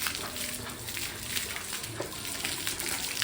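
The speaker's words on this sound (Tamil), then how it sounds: "எங்கள் அத்தை வந்து இப்போ தண்ணி பிடிச்சிட்டு இருக்காங்க வாசல் துளிக்கிறதுக்காக" Tap water runs steadily into a container as it is collected for washing a doorstep, a continuous hissing gush with no pauses, at moderate level and with no voices.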